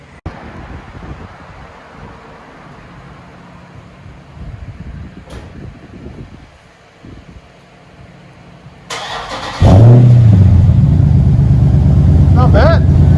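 Dodge Charger R/T with a 6.4L HEMI V8 and its rear mufflers removed, heard outdoors with wind noise: a quiet idle, then the engine suddenly barks into a loud, deep rev that holds near the microphone.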